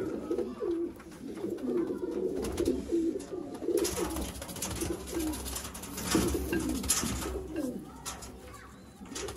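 Several old Sialkoti pigeons coo in low, throaty, repeating calls close by, their rolling notes overlapping against a faint background hum.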